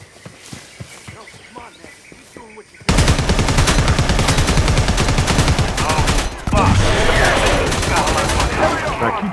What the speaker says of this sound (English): Now keep shooting.